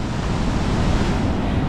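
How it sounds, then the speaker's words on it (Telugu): Monsoon sea waves surging onto a Goa beach make a loud, unbroken wash of surf, with wind buffeting the microphone throughout and nobody speaking. "ఇప్పుడు చూడండి అసలు ఎంత ముందుకు వచ్చేస్తుంది వాటర్"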